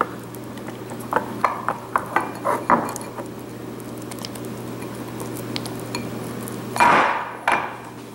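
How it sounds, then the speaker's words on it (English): Soft butter and a second ingredient being mixed in a bowl for almond honey butter cookies: a run of close, irregular scraping knocks and clinks of utensil against bowl, pausing, then a louder clattering burst near the end under a low steady hum. "we're just going to mix those two together until they're combined"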